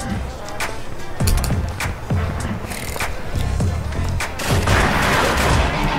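Gunfire in a Roblox zombies game styled after Call of Duty: World at War, with a series of loud, evenly spaced shots cracking over a busy, noisy game mix.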